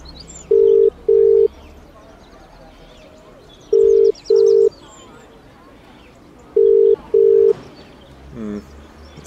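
A phone dialing a number gives six short, steady electronic beeps in three evenly spaced pairs. The beeps are clear and close over a low background hum.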